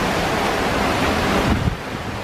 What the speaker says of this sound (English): Right now we got 26 knots of wind.